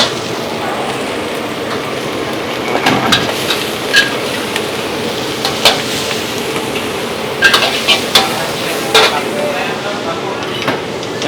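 Nasi goreng kampung, village-style fried rice, sizzling and being stirred in a wok at a busy food stall, with a steady frying hiss and scattered sharp metallic scrapes and clanks of the spatula against the pan.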